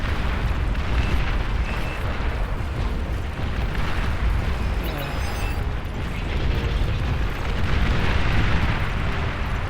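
Bombs striking in the real-time strategy game Beyond All Reason, a dense, continuous rumble of overlapping explosions and booms with scattered pops, loud and unbroken throughout.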